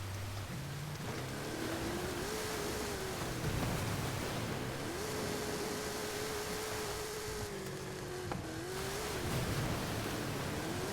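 Car engine held at redline in Forza Horizon 5, a sustained high-pitched whine that holds steady with brief dips, over constant road and wind noise, with no talk.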